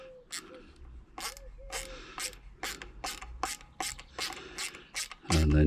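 Threaded parts of a dual-band Yagi antenna being screwed together by hand, giving a close series of about a dozen short ratcheting clicks and scrapes in an uneven rhythm, ending in a heavier rub.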